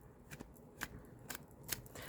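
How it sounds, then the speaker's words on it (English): Tarot cards are shuffled in quick, faint riffling bursts, a few soft snapping flicks spaced across a quiet indoor room. "let me shuffle this one more time"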